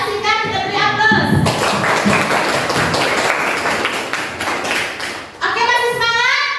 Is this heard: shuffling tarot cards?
no